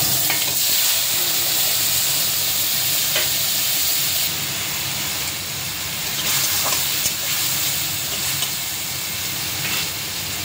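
Whole cumin seeds tempering in hot oil, with bay leaf added just before, crackle and sizzle loudly and continuously, with a few sharper spits and pops scattered throughout.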